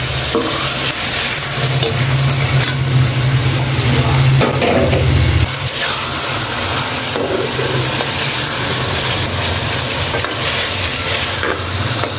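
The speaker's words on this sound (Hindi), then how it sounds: "अब हम इस पे मटन डालेंगे और इसको अच्छी तरह हिलाएंगे" Mutton goes into ready masala in a hot pan for tinday gosht and is stirred, giving loud sizzling and frying with scraping stir strokes. A heavy low rumble fills the first half, then the steady sizzle carries on alone.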